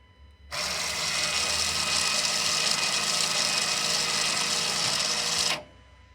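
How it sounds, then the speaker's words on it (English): Electric parking brake caliper motor retracting its piston on command from an OBD2 scanner: a steady mechanical whir starts abruptly, runs evenly for about five seconds, then stops sharply, close and alone. "So I will now command my piston to open."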